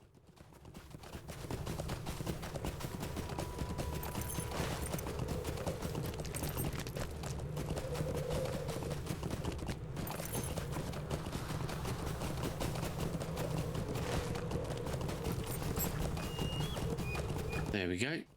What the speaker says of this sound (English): I've even got my little Rohan horse out.